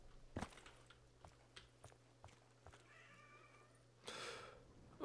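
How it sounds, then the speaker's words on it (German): A cat meows a few times nearby, short cries with soft thumps and rustling in a quiet room, then a brief burst of noise. "Ach, Katze, Alter, nerv nicht"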